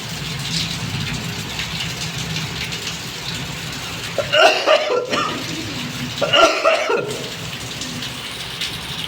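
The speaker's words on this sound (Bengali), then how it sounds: "খুব জোরে বৃষ্টি হচ্ছে" Heavy rain pours down during a violent storm, a steady close hiss that fills the background, with two louder bursts of nearby noise breaking through midway.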